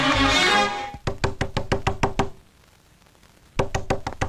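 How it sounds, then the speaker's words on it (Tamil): Knocking on a door in a Tamil comedy film scene, a burst of about eight sharp raps after a brief musical sting, a pause, then another rapid round of knocks, loud and close with no talk. "நான் தான் வெளியே வந்து நிக்கிறேன்ல, ஏன் மறுபடியும் தட்டுற?"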